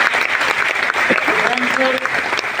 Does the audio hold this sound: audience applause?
yes